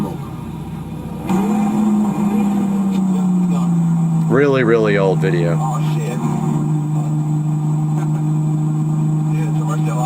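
A Lamborghini Murciélago engine plays back from a recording as a steady, low, droning hum that holds throughout, while people talk loudly over it nearby.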